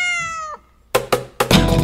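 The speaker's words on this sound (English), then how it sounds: "The cat, it goes like this." A soft black cat on a farm gives one clear, close meow, followed by a few sharp knocks and thumps.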